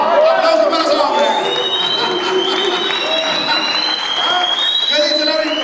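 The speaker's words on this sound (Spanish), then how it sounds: "Aplausos para esos hombres." A church congregation applauds during a Sunday sermon, dense sustained clapping filling the room from start to finish, with loud voices mixed in over the clapping.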